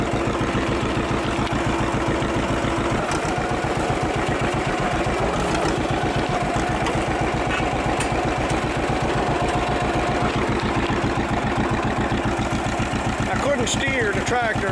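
A Poppin' Johnny tractor engine chugs steadily up close while moving round bales on a farm, keeping a continuous rhythmic putter throughout.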